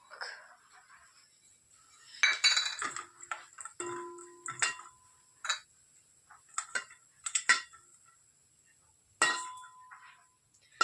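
A steel bowl brought into a home kitchen and handled, giving scattered clinks, taps and knocks of varying loudness, close by, with no talking.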